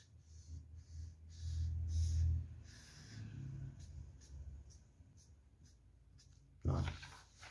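A pen drawing a hexagon on paper, with short scratchy strokes heard close up while someone speaks over them.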